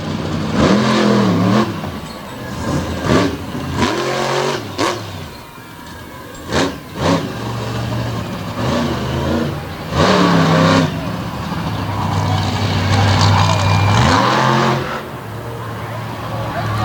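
A monster truck engine revs and surges in bursts during a freestyle run at a Renegade Monster Truck show in Abbottstown, PA, loud and close, with an announcer talking over it throughout.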